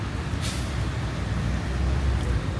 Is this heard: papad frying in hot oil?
no